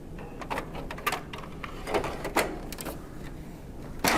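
An ink ribbon cartridge goes into a CR8xx or CE875 card printer with a series of plastic clicks, taps and sliding scrapes, close and fairly quiet, with no talk.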